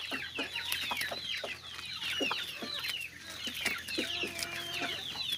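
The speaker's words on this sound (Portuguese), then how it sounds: "galo bom é galo que chama as galinhas para comer" A rooster calling hens to feed on a small farm while the hens cluck busily nearby, a dense, close chorus of short clucks and calls.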